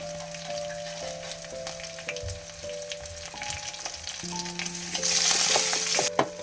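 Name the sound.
stirring crushed shallots and curry leaves frying in oil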